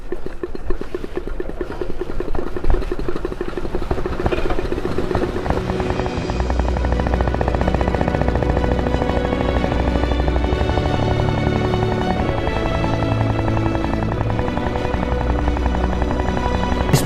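Royal Enfield Project Origin early motor bicycle engine running steadily, a continuous low rumbling drone with a buzzing, pulsing quality that grows fuller and louder after a few seconds and holds alone without talk.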